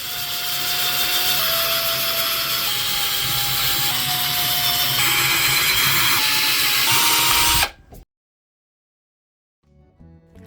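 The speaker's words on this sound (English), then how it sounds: "I decided after the week I had, I was due for some much needed drill therapy." A power drill boring holes into a cured, baked clay beetle sculpture, a loud steady whine that shifts pitch in several stepped runs, then stops abruptly, leaving near silence and a faint sound at the end.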